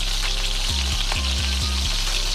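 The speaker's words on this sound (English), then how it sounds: "The meat is in the pan." Meat frying in a pan on a home stove, a loud continuous sizzle with a few bursts of stirring or scraping partway through, heard close up with no talk.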